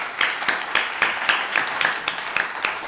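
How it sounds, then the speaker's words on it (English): Audience applause at a student A/V awards ceremony at Pasadena City College, a steady crowd clapping with regular sharp peaks, sustained and fairly loud throughout. "Let's give them a big round of applause once again."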